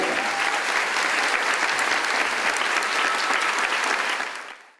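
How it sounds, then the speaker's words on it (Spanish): Sustained audience applause at a benefit concert for victims of the Lorca earthquake, dense and steady clapping filling the room for several seconds before tapering off at the end. "Pido un aplauso para las víctimas y los damnificados del terremoto de Lorca."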